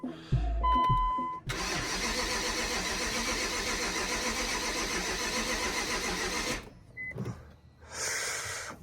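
BMW E60 sedan with a weak battery cranking over in a long, loud, continuous starter grind lasting about five seconds, followed by brief clicks and a shorter second cranking attempt, close up.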